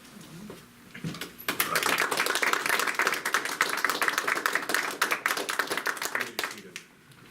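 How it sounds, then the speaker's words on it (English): A room of people applauding steadily for several seconds, dense clapping that starts abruptly and fades out at the end. "we would like to give you a round of applause"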